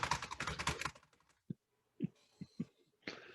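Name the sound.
typing on a computer keyboard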